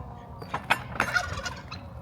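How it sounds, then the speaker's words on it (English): Poultry at a small farm in a historical heritage village call in a quick cluster of clucks and gobbling squawks, fairly close and brief, with no talk over them. "Chicken."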